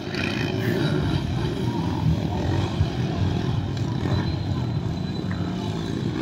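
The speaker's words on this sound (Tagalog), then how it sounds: "Malakas sabi yung makina ng orange sa arangkada" Trail bike engines race at a motocross event in Atimonan, a steady loud roar of several revving two-stroke motors blending with crowd noise throughout, with voices talking faintly underneath.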